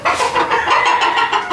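Breeding hens and chickens clucking close by, a busy cluster of short overlapping clucks from a farm flock.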